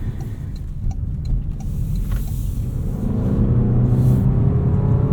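Interior of a 2026 Toyota RAV4 Limited accelerating: steady low engine and road rumble that swells gradually louder over several seconds, with no talking.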